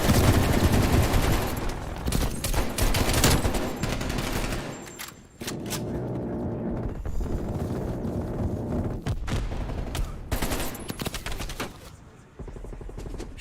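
AK rifle fire in a Call of Duty match: loud, close bursts of rapid automatic shots with dense cracks and booms. Several short pauses break the firing before it resumes, and the last burst trails off into quieter game ambience.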